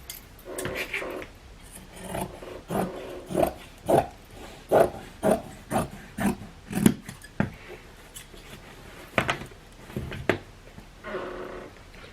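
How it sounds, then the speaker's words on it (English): Scissors snipping through denim from old jeans, a regular series of crisp, close cuts, about a dozen in a row, then a few scattered snips and rustling fabric, with no talking. "so we're going to cut this."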